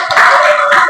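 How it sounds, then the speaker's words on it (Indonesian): Classroom applause: a short, loud burst of many hands clapping together up close, lasting about a second. "Aplaus untuk kita semua."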